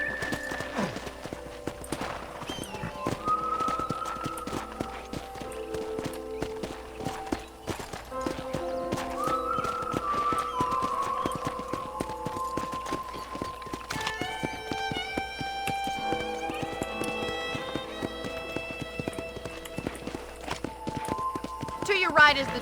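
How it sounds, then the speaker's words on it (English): Horse hooves clip-clop at a steady walk in the Red Dead Redemption video game, with occasional whinnies, layered under speech and soft background music. "I picked out a fine horse for you."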